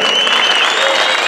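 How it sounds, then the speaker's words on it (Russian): A crowd at a Draka combat fight event applauds loudly and continuously after the bout, a dense wall of clapping with whistles ringing over it. "еще раз ваши аплодисменты"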